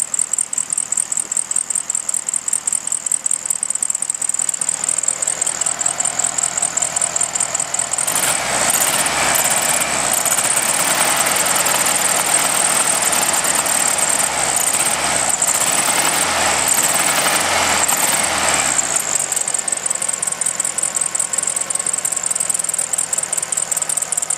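1966 Volkswagen Beetle engine idling rich, a steady close chugging idle with a lumpy rhythm, rising into a louder rougher stretch midway before settling back.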